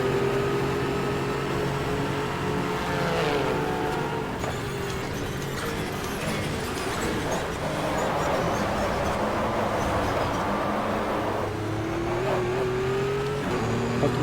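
A mid-engined prototype race car in the GTR2 racing game at Zandvoort drones steadily through the clip, its engine note rising and falling with gear changes and revs.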